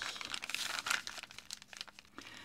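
Crisp, close crinkling and rustling as thin wrapping paper is folded over on its second side and the crease is pressed down, with no talking.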